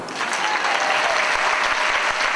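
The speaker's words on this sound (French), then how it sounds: "Alors on peut applaudir la corde." Sustained applause from a concert audience on a French tour, dense and steady throughout at close range, with no voices standing out.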